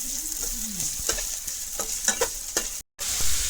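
Chopped onion, garlic and halved green chillies fry in hot oil in a village kitchen, a close, steady sizzle with intermittent scraping and stirring clatter and a brief cut near the end.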